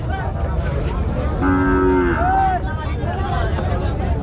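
A bull moos loudly and close by at a cattle market, a long low call followed by a shorter rising one, over a steady rumble of background noise.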